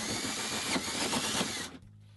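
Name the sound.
power drill drilling a hole for Showermiser installation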